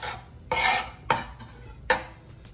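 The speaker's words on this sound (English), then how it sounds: "Slice the cucumber. I will slice very thin slices." Knife slicing a cucumber into very thin slices for a cold sandwich, three sharp close strokes, each a crisp rasp against the board with short pauses between.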